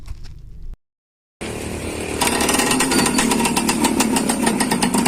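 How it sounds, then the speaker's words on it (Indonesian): After a brief silence, a 2002 Yamaha F1ZR two-stroke motorcycle engine starts and runs loudly nearby, a rapid buzzy rattle that rises and keeps going. "mari kita dengarkan suara mesin dari motor F1 ZR ini"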